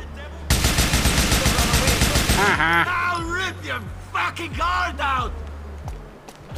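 Rapid automatic AK rifle fire in the video game Grand Theft Auto 4, a loud dense burst of shots lasting about two seconds, followed by scattered in-game shouting and someone talking.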